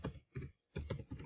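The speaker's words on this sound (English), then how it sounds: "let me type in" Quick bursts of keystrokes on a computer keyboard, four short clusters of close, soft clicking separated by brief pauses.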